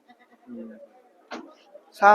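A goat gives a short, wavering bleat, then another sharper cry at the end, with brief human voices in between.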